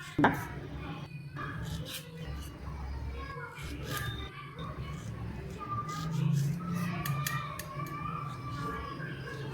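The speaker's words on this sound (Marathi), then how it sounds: "नंतर एक हिरवी मिरची उभी चिरून घेतली" Knife chopping a green chili lengthwise on a board, sharp blade, a series of irregular close taps with steady kitchen background noise and a low hum throughout.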